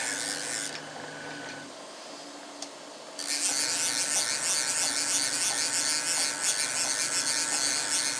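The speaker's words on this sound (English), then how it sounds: "So I just put it in a vise, and I'm gonna machine it like that." A jointer part clamped in a vise is milled at a slow 3 inch per minute feed; a steady high-pitched machining hiss starts partway through and continues loudly to the end, with no talking.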